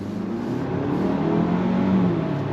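A 2024 Ford Ranger XLT FX4 midsize truck accelerating under throttle, a steady, loud engine drone rising gradually over a couple of seconds with no one speaking.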